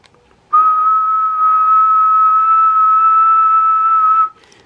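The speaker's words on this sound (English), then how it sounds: "So let's give a little whistle." A single steady whistle held for several seconds into the microphone of an Anytone AT 5555 10-metre radio on upper sideband, clear and alone against a quiet background.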